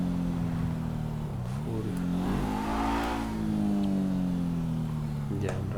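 A red sports car cruises along a winding road and eases off the throttle, its engine note dropping and then rising steadily as it slows for turns, with a continuous close rumble and no voices.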